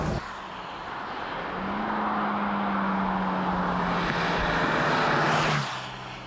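BMW 2002 Turbo cruising on the Autobahn, its engine a steady droning hum that swells slightly then eases off near the end, heard from inside the car over broadband road and wind noise.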